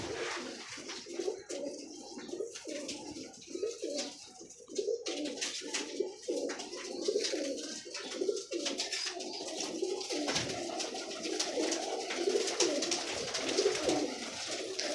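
Pigeons kept for sale coo in a continuous, overlapping chorus of low rolling calls, close and fairly loud, with occasional flutters and scuffs and no voices over them.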